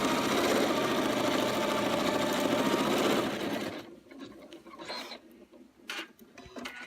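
Embroidery machine stitching the outline of bunny ears on Minky fabric, a loud rapid mechanical chatter for about three seconds, then stopping into quieter intermittent clicks and handling noises.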